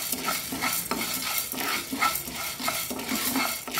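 Urad dal frying in a pan, a soft sizzle with light rhythmic stirring scrapes repeating at a moderate distance.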